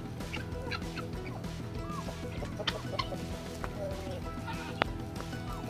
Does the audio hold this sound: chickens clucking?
yes